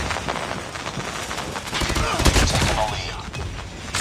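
Rapid bursts of Mythic AS VAL rifle gunfire in the shooter game COD Mobile crackle continuously, dense overlapping shots and impact sounds layered with game effects throughout, loud and close.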